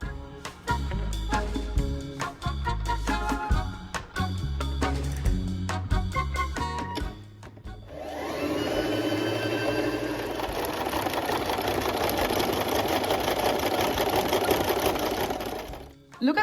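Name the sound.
sewing machine zigzag stitching velvet pieces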